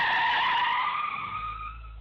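Minibus braking suddenly on a winding dirt road, a loud high tire screech that begins at once and slowly fades, with no voices.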